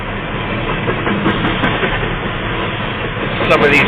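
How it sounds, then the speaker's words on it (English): A train passing on a railroad near a roadside makes a steady, heavy rumble with faint clattering, close and sustained, while a person talks over it. "And here comes the train."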